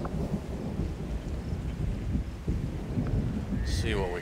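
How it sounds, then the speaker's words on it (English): Rain and rolling thunder in the video game XCOM 2, a steady broadband downpour with low rumbles throughout, plus a brief electronic whistle-like sweep near the end. "Well, we can see it's raining."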